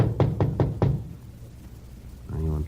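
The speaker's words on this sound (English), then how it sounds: "went up to the 4th floor and knocked at the door" Four quick, firm knocks on an apartment door on the 4th floor, evenly spaced and close, followed by a quiet pause and then a voice speaking, in a radio drama.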